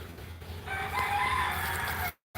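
A chicken crowing once, loud and close, a drawn-out call that breaks off abruptly at the end.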